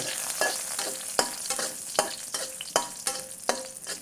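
Garlic being stir-fried in a pan for a pork meatball and young chili stir-fry: a steady close sizzle broken by repeated sharp scrapes and clacks of a spatula against the pan, with no talk.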